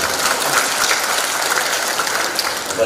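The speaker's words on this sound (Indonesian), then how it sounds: "Tepuk tangan buat kota kita." Loud, dense applause from a stand-up comedy audience in Surabaya, steady clapping filling the whole stretch without a break.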